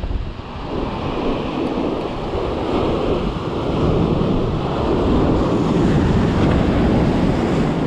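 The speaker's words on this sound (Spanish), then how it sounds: "las olas llegan hasta aquí, hay que tener cuidado" Ocean waves breaking on the rocky shore at Malpica during a spinning fishing trip, a loud continuous roar of surf with wind buffeting the microphone, building slightly louder midway, no talking.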